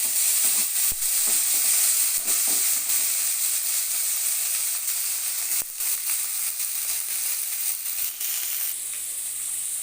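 Bitter gourd fries hard in hot oil with mustard seeds and chilli, a loud, steady sizzle that runs the whole time, broken by a few scraping stirs and pops, with no voices.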